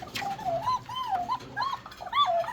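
Fancy Koka pigeons at a Bangladeshi pigeon farm coo in repeated rolling, warbling calls, several phrases in quick succession, close and clear with faint background hum.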